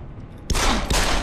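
Gunfire in Deus Ex: Human Revolution, The Missing Link: after a quiet moment, a loud burst of shots erupts, then a second blast follows closely, with dense, sustained crackling continuing to the end.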